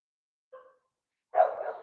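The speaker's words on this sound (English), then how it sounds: "She is barking because there are other dogs barking" Rosie the dog gives a short faint yip followed by a louder, fuller bark, both close by against an otherwise silent background.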